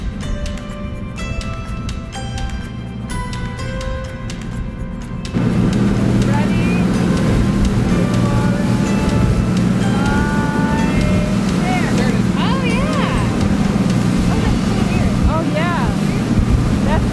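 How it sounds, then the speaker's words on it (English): A boat motoring across open water toward Valdez, Alaska, its engine droning loud and steady under heavy wind buffeting and splashing waves, growing louder after a few seconds as the craft speeds up. "Now we're getting back on the boat."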